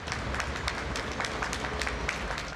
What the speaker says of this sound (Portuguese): moradores vão até a janela de casa para uma salva de palmas dedicada aos trabalhadores da saúde, como médicos e enfermeiros